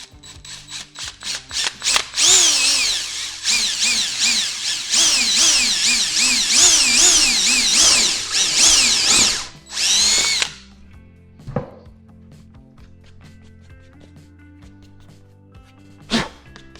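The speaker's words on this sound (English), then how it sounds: "there is where we're going to drill that hole" A power drill bores a hole through a hat, whining loudly in bursts whose pitch rises and falls with the load for about ten seconds, followed by a few faint clicks and a brief final whir, with no talking.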